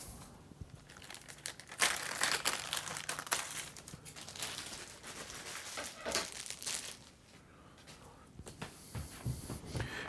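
Plastic packaging being trimmed off a Schlagwerk CAP200 cajon pedal in its flight-ready case, heard as close, irregular crinkling and crackling bursts with sharp tearing snaps, no voices.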